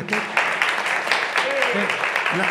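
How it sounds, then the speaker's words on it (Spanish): Audience applause at a round-table session on the innovation and future of Spanish animation, a broad steady wash of clapping lasting the whole moment, with a voice talking over it. "Es el primer aplauso, ¿no? El primer aplauso."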